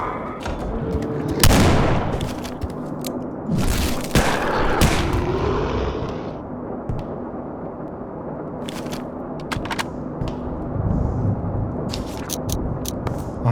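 Several sharp gunshots crack in bursts, some single and some clustered, over a steady background hum, with no talking, in the PC horror game Amygdala Prelude.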